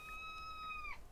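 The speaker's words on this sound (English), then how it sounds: "that's my cat" A house cat gives a single clear meow, rising and then falling away at the end, heard close and alone against quiet room tone.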